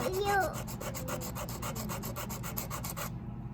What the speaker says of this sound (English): So get your piece of sandpaper, hold it down. Sand those edges down.